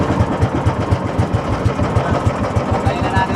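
Small boat engine running on the water during a squid-fishing trip, a fast steady thumping chug at close range with a regular mechanical pulse, continuous for the whole stretch.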